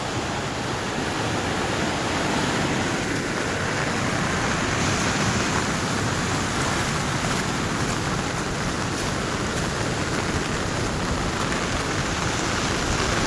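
Heavy, continuous monsoon rain pours down in a flooded area near a swollen river, making a dense, even roar with no break and no voices.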